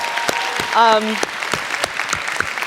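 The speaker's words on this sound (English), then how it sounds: "so a round of applause for them as well." Audience members clap steadily at a live on-stage conversation event, a dense spread of applause with one short, high vocal whoop cutting through near the start.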